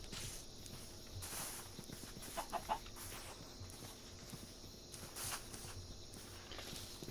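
A chicken in the Minecraft video game clucks in a few brief, soft bursts near the middle, heard over a low, steady ambient background with faint footsteps.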